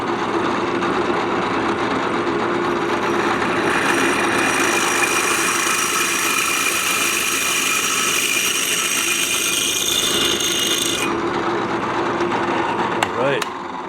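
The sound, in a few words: drilling out a 1920 overflow tank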